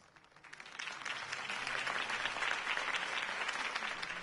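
Crowd applause in Batman: The Telltale Series after Harvey Dent's campaign speech, many hands clapping that swells up quickly and holds as a dense, steady roar.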